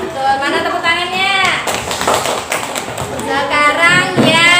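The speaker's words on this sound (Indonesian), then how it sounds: "Mana tepuk tangannya?" Children clap and tap in a bursty, uneven round of applause in a classroom, while excited young voices talk over the clapping.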